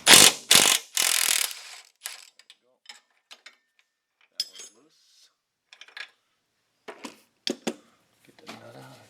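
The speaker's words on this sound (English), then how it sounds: "Alright, I gotta open in the wrench on here because the fitment is so tight. And then we're going to try to loosen this up." A ratchet wrench loosens a tight front control arm bushing nut on a 2007 Pontiac G6, with bursts of rapid clicking followed by scattered short ratchet ticks and metallic clanks close by.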